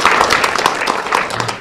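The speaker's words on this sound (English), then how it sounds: "And that is an applause." Loud, steady applause from a crowd in the House chamber, a dense wash of many hands clapping together without pause.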